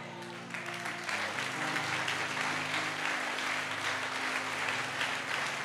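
A church congregation breaks into loud, sustained applause, dense clapping filling the room, with a voice briefly audible underneath as it begins.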